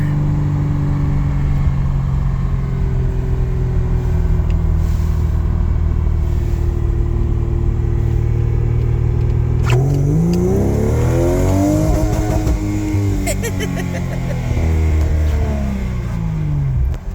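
A loud Vortec 4200 engine swapped into a Jeep Comanche idles with a deep rumble, then revs hard, rising and falling in pitch through several surges, close by and with no talking.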